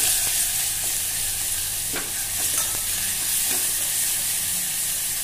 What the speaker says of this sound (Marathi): छान मिक्स करून घेऊया।